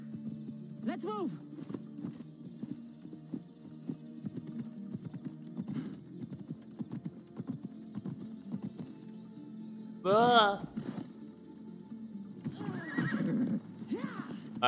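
Horse sounds from Assassin's Creed Odyssey, with clip-clop hooves running throughout, a sharp whinny near the start and a louder neigh around the ten-second mark, all under steady game ambience and a talking voice.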